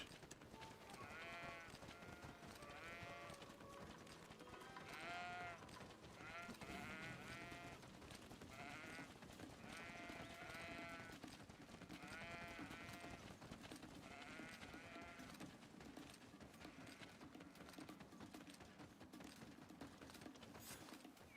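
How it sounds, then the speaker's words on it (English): Goats bleat repeatedly in the Greedfall video game, a run of wavering, nasal calls spread over about twenty seconds above a steady hiss and low rumble of game ambience, fairly quiet overall with no talking. "That's a goat."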